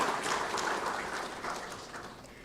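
Applause from a seated audience at a government workshop on construction and demolition waste recycling, a steady wash of many hands clapping that slowly tapers off over a couple of seconds.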